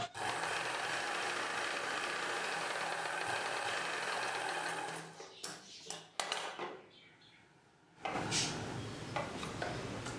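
A sewing machine stitching a cross-cut blouse runs with a steady mechanical hum and ticking, stops and restarts several times with short pauses, then hums on again.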